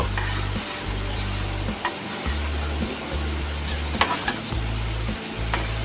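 Chicken soup thickened with cornflour bubbling in a pot, a steady low rumbling boil with soft sizzling texture and occasional light clicks and scrapes, continuous and fairly close.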